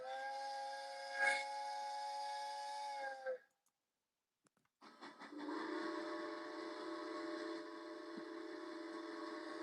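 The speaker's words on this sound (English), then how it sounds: "That's the sound we love. The train, baby. Sound of the train." A train's steam-style whistle blasts loudly as the train leaves the station, holding a steady chord for a few seconds before cutting off. After a brief pause, a second, harsher and hissier whistle sounds and keeps going to the end.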